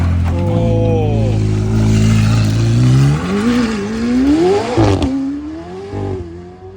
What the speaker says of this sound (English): a 918 is driving by while we're filming that